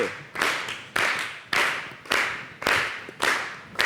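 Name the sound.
people clapping hands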